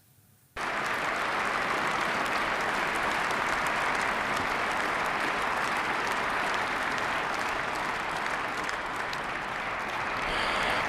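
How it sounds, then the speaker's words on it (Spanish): A large audience bursts into a strong, sustained ovation after a quiet moment, dense clapping for a speech by the Russian president that stays loud and even for the rest of the stretch. "Una declaración que fue recibida con una fuerte ovación"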